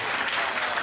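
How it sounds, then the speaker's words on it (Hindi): An audience at a Hindi comedy performance bursts into a short, dense wash of clapping, heard briefly and steadily at moderate loudness. "तो एक बार ताली बजा दीजिए।"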